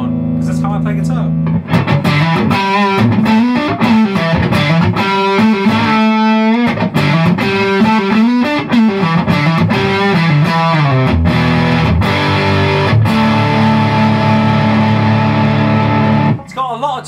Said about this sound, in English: Lots of distortion on, because that's how I play guitar.